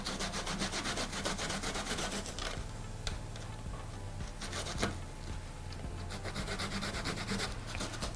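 Zucchini (courgette) scraped against the rough side of a hand grater during baby-food preparation, a steady close rasping rub repeating continuously, with a few sharper scrapes mixed in.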